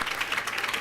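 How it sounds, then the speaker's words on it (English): A round of applause at a school district board of education meeting, steady and dense throughout, moderately near and evenly sustained. "please help me give him a big round of applause"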